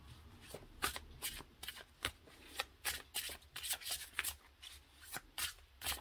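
A deck of tarot cards is shuffled by hand, with quick, close riffling and slapping bursts in an irregular rhythm over several seconds.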